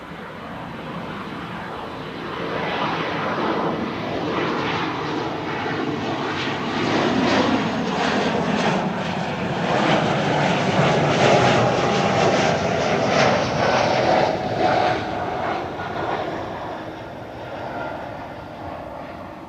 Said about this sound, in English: Here we have an E2 Embraer 195 KLM Flight